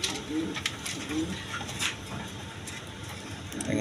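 Pigeons of several breeds, including Rajgolla, coo softly at a wholesale pigeon market among rustling and light patter, close by, with someone talking over them.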